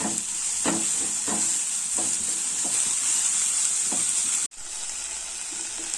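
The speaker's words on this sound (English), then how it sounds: "We'll fry this all for 2 to 3 minutes." Loud steady sizzling of ingredients frying in a pan, with several scraping stirs from a utensil, close up and without speech.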